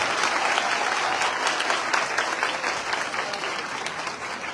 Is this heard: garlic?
no